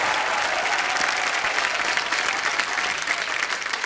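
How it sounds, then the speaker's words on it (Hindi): A television studio audience claps loudly and steadily, welcoming a guest onto the stage of a comedy talk show, with dense sustained applause throughout. "जोरदार तालियां।"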